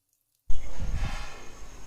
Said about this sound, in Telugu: నెయ్యి వేసి వేడెక్కిన తర్వాత బుడ్డలు మరియు గోడంబిని ఇలా వేయించుకోవాలి.